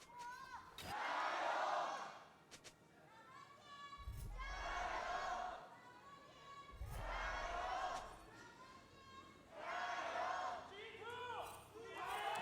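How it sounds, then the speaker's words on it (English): Crowd shouting and cheering at a League of Legends esports match between Top Esports and LGD Gaming in Shanghai, with a lone fan's yell rising above sustained arena noise in several loud bursts. "Someone in the crowd just yelled G2."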